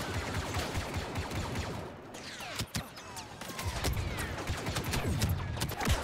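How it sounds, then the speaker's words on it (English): Rapid bursts of ion weapon fire in Star Wars Battlefront II, a busy crackle of sharp shots and zipping sweeps at moderate loudness, continuous across the moment with no voices. "The ion weapons are working."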